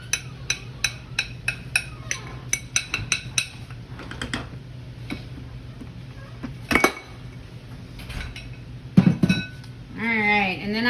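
Spoon or utensil clinking rhythmically against a bowl while flour is mixed into dough, a series of sharp knocks at first, then scattered scrapes and clatter, with a brief voice near the end.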